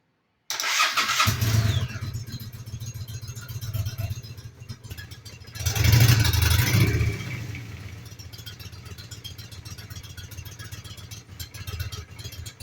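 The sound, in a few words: motorcycle engine starting and idling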